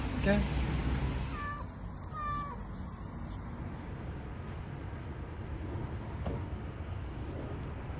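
A pregnant cat meows at a veterinary clinic, a few clear rising cries near the start over a steady background hum, fading into quieter room noise as people talk.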